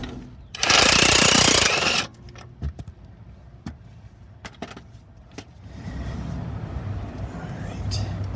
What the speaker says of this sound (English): for the bottom, I'm just going to use the impact. It's an 18 millimeter bolt